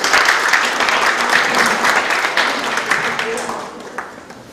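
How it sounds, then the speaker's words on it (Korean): Audience applause for the mayor at a town-hall citizens' dialogue in Mogam-myeon, steady broadband clapping from a crowd that carries on for several seconds and thins slightly toward the end. "시장님께 고마운 마음에서 큰 박수 보내주시기 바랍니다"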